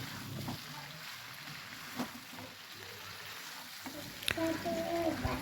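Onions frying in a pan for chicken curry sizzle steadily while being stirred, with close scraping and shuffling sounds and a brief clatter near the end.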